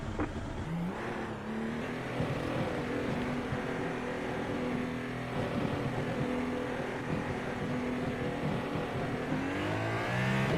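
A racing-game hypercar at Imola roars out of the pit lane, its engine note climbing steadily under hard acceleration, loud and continuous throughout.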